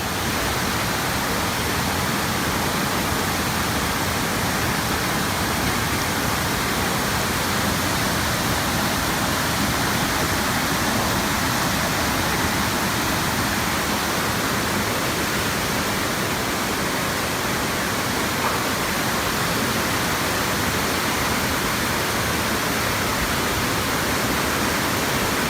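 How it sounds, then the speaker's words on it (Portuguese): Flash flood water rushing through a main street of Ellicott City in May 2018, a loud, steady broadband roar of torrential flow that stays constant throughout with no voices. "A enchente foi uma grande surpresa, mas a água logo começou a baixar tão rápido quanto tinha subido."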